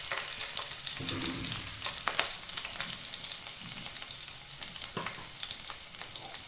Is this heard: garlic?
yes